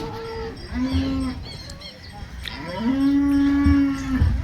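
A cow at a cattle market moos twice, close and loud, with a short call followed by a longer, drawn-out low moo over a faint background of market noise.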